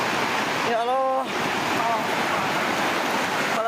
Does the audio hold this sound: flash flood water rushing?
yes